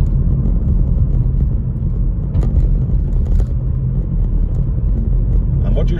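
Car cruising in third gear along a rough country road on a driving test route near Comber, Ards, with a steady low engine and tyre rumble throughout and brief knocks from the uneven surface.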